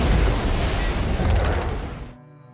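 A loud, roaring explosion fills the scene with a dense rumbling blast for about two seconds, then cuts off abruptly into near silence.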